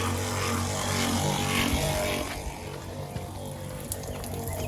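Steady broadband rush of running water from a sink faucet in a camper van, fairly loud and continuous, with a low mechanical hum beneath; the flow softens slightly partway through.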